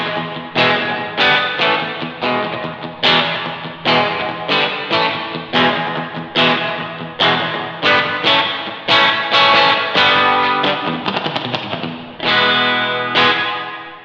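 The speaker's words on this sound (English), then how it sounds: "if I crank the reverb up on the amp, you've got that surf thing in there if you're into that sound" A 2018 Fender 60th Anniversary Jazzmaster electric guitar on its bridge pickup, played through an amp with the reverb cranked for a surf tone, strums a run of bright, loud chords with a wet, washy tail between hits.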